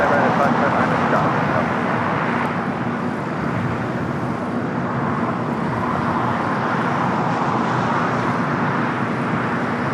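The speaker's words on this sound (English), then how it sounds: "Next takeoff here on the south side is a flight to Vegas, a 737 MAX 8 Southwest flight 952" A Southwest Boeing 737 MAX 8 on a flight to Las Vegas takes off from LAX, giving a steady, loud, broad jet roar that fills the whole stretch, with people talking over it.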